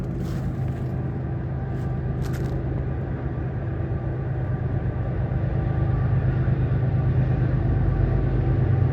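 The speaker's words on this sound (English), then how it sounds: "I'm right at the tunnel here and there's another train coming." A freight train rumbling past near the Staple Bend Tunnel, a deep steady drone of wheels and engine that swells gradually louder toward the end, heard outdoors without talk.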